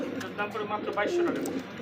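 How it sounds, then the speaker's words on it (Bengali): Danish racer pigeons, a male and a female, coo softly and continuously close by, with a person talking over the calls. "এটা হচ্ছে যে দেখেন নর কবুতর আর পিছেরটা হচ্ছে মাদি কবুতর"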